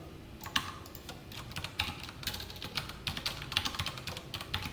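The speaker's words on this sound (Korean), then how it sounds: "서치 키워드는 아무거나 써보겠습니다" Quiet, rapid typing on a computer keyboard, a loose irregular patter of light clicks and key taps continuing throughout at close range with no talking.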